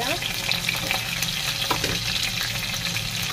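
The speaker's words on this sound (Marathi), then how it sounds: "थोडं थोडं डाग पडेपर्यंत आपण मिरची परतून घेतलेली आहे" Stuffed capsicum (bell peppers) frying with masala in a pan for a Maharashtrian bharli mirchi dish, with a steady, close sizzle and occasional stirring scrapes throughout.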